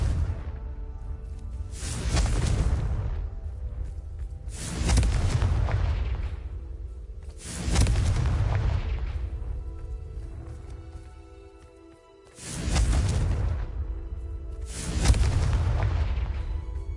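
Confringo spell blasts from the video game Hogwarts Legacy: five loud, booming explosions with whooshing tails, spaced a few seconds apart and each decaying before the next hits.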